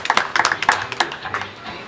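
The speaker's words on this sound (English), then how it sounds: "Please give the flamingos a big round of applause" Audience applause at a flamingo show at Ardastra Gardens zoo in the Bahamas: a brief patter of scattered hand claps from a modest crowd, close and uneven, tapering off after a second.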